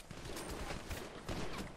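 Rapid gunfire in the game GTA V, a dense run of overlapping shots at steady volume with a stronger burst near the end, sounding like sustained automatic fire during a gang shootout.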